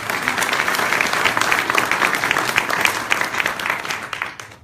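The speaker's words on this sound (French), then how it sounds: "je vous demande quand même de l'applaudir, même s'il est pas là." Audience members at a French public campaign meeting for a parliamentary candidate give a round of sharp, crisp applause, the many hands clapping in a dense patter before it tapers off at the end.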